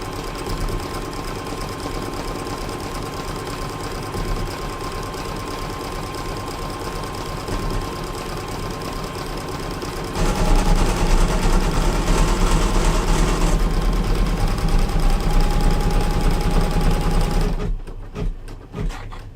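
An embroidery machine sews an in-the-hoop hand sanitiser holder with gold thread, making a loud, continuous mechanical whirr and rapid needle tapping that grows louder midway before winding down and stopping near the end.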